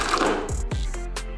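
The power cord of a Soviet-era vacuum cleaner winds back into its housing at the press of a button. There is a quick mechanical whir with rattling clicks, a couple of sharp knocks and a final clack, close and fairly quiet.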